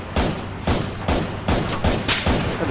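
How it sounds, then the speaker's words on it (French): Rapid bursts of video game gunfire from a turret, several sharp volleys in quick succession, loud and close with no talking. "Alors là, on se fait tirer dessus par la tournante BS, Jack."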